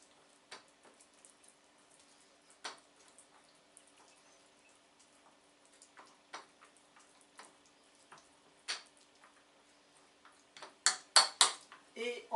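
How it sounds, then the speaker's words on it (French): A utensil gently stirs a mixture in a bowl, giving faint, sparse clinks and taps against the sides that build into a quick burst of louder clattering near the end. "on touille tout ça gentiment"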